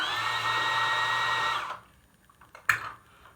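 .308 rifle brass cases are trimmed with a case trimmer, making a steady high whirring cut for about a second and a half, then stopping, followed by a short sharp click.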